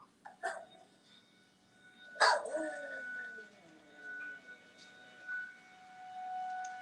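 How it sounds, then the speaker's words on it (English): An emergency siren test wails faintly in the distance, rising and holding its tone, while a dog barks and yips nearby. "they would test the sirens, the emergency sirens"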